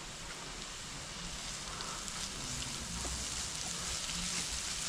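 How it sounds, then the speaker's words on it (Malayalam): Onions sauté with salt in a pan. They give a steady, fairly faint hiss and crackle that holds unbroken throughout. "നന്നായിട്ടൊന്ന് വഴറ്റി കൊടുക്കാം"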